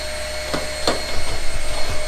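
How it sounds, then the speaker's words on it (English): A vacuum cleaner runs with a steady whine in a workshop during a 1934 Plymouth rebuild after a rally crash, with a couple of sharp knocks and rhythmic bumps as it is moved about. "I think it might actually be the first time my parents have actually seen me vacuum."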